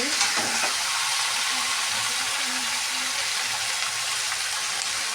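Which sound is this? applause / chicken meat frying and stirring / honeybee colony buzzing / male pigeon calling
chicken meat frying and stirring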